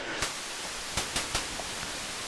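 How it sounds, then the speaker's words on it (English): Steady hiss of white noise from a Behringer K2 MKII synthesizer fills the clip, broken by a few faint clicks at irregular intervals. "I believe that's white noise"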